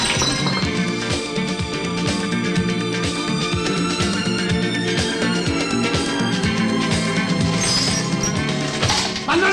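Glass shattering and crashing in a 1983 Italian comedy film scene, a dense, loud run of breaking and clinking impacts that keeps going for several seconds over a thick, busy soundtrack.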